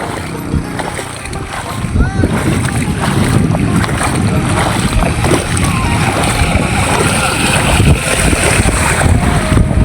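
Motorbikes push through a flooded road, water splashing and churning steadily under broadband wind-like noise for about ten seconds, with an engine drone low beneath the continuous wash.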